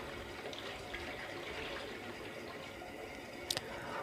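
Water poured over boiled macaroni sitting in a strainer, a soft, steady splashing trickle with a brief knock near the end.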